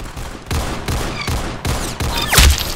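Gunfire in the video game Arsenal rings out in a rapid series of about five loud, close shots with ringing tails, the last one heaviest.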